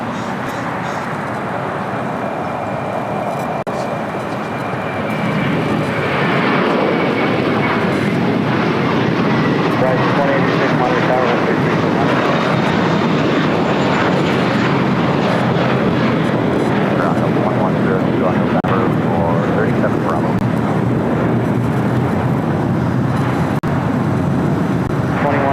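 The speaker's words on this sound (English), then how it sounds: "That was JetBlue Airways Flight 2985 heading to Miami, Florida at A321." JetBlue Airways Airbus A321 jet airliner passing at LAX, a loud, broad jet roar that swells after the first few seconds and holds steady for about twenty seconds, with faint talk underneath.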